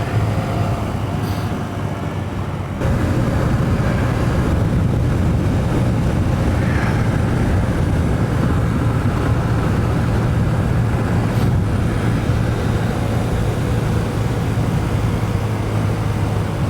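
Low steady engine drone from a 2023 Honda CB125F running a Yuminashi 28mm throttle body, loud and continuous on the move, stepping up in level after a few seconds and holding a constant hum with wind rush.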